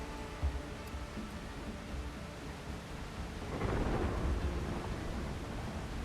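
Thunder and rain in the pirate survival game Windrose: steady rainfall hiss with a low, broad thunder rumble swelling in midway and lingering, no talking.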